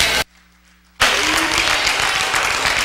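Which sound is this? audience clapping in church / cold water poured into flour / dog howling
audience clapping in church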